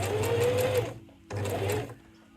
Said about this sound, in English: stitch with my 1 centimeter allowance all the way around to where I started